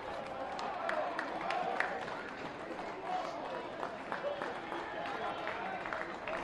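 Baseball stadium crowd during a college game between BYU and West Virginia, a steady broad roar of cheering with scattered clapping that holds the whole time, with a commentator talking over it.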